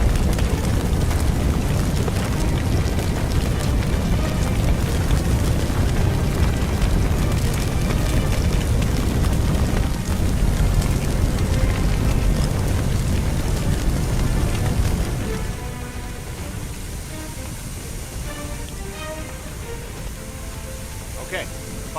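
In a firefighting video game, an attack hose sprays water onto a fire in a steady broadband rushing hiss that drops in loudness near the end, with a voice talking over it.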